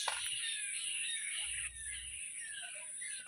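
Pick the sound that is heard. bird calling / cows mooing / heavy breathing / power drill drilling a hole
bird calling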